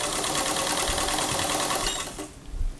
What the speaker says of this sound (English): I'm just lining them up together and zigzagging down, medium width zigzag, fairly close stitches